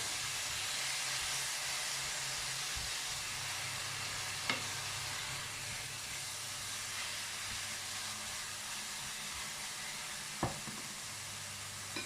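Onions and shallots frying in a pan give a steady, close hiss and sizzle, broken by a couple of brief clicks, with a low hum beneath and no one talking.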